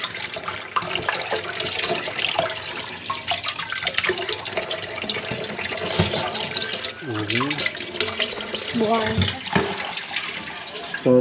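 Running water rinses freshly caught sea cockroaches, a steady splashing and gurgling stream like a tap or bucket pour, close and fairly loud throughout with brief surges.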